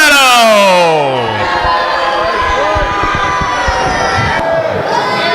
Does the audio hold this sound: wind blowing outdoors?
no